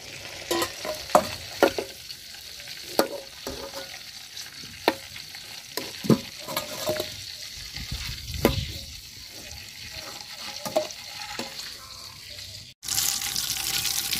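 Desi chicken pieces lightly frying in oil in a home kitchen, a soft continuous sizzle broken by sharp stirring scrapes and clinks at irregular intervals, close by with no voices; it cuts off and a louder hiss takes over near the end.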